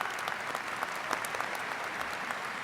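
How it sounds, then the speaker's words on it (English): Graduates applaud at Illinois State University's College of Business spring commencement, a steady, dense wash of clapping from a large crowd that holds an even level throughout, somewhat distant and with no voices on top. "So give yourself a round of applause."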